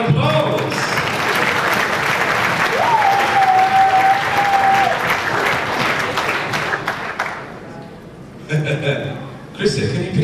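A cabaret show audience at the Sousse Palace in Tunisia gives a big round of applause. The dense clapping holds for about seven seconds and then fades, followed by brief scattered bursts, with voices and a thin whistle-like tone mixed in.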